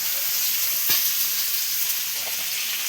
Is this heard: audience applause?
no